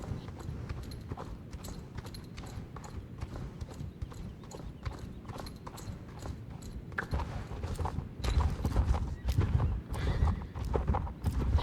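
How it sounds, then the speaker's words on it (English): Rhythmic hoofbeats of a horse moving at a canter in a show jumping ring, steady and fairly close, growing louder toward the end, with a brief whinny in the mix. "They set off at a powerful but controlled canter, straight to the first jump, absolutely effortless."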